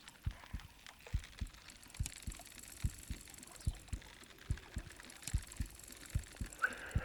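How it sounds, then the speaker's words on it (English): Steady heartbeat pulse in the Bassmaster Fishing 2022 video game, marking a fish strike at Toledo Bend: about a dozen regular soft low thumps, evenly spaced and moderately loud over a faint hiss. "I got a heartbeat."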